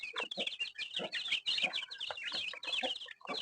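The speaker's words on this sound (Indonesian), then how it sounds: "kita lanjut ke kasih makan ayamnya, sahabat" Free-range village chickens cluck busily while being fed, a close, lively chorus of overlapping short clucks and chatter, irregular and continuous.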